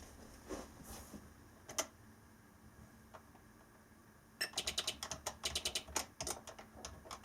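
Keys pressed on a retro Timex computer keyboard, quiet and close: a few scattered clicks, then a quick run of crisp taps with no talking.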